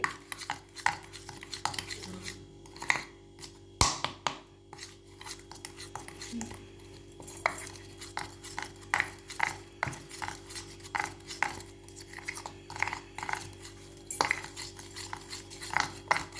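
A metal spoon stirring a small batch of no-bake sugar-free cake batter in a bowl, with repeated soft scraping and light clinks against the sides, quiet and close with no voice.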